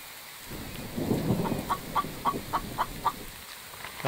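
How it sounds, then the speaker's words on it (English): Chicken in a survival video game clucking in a short run of evenly spaced clucks over a rumbling, rain-like ambient background, no talk. "I can see a chicken."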